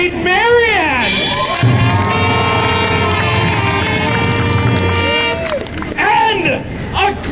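A crowd at a Robin Hood–themed faire cheers and shouts loudly, a sustained burst of voices under an announcer who speaks before and after the roar.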